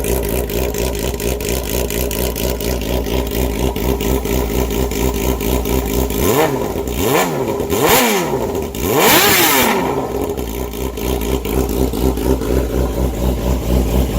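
A 2007 Yamaha R6 sportbike fitted with a full exhaust idles loudly and steadily up close, then blips through several sharp revs in quick succession before settling back to a throbbing idle.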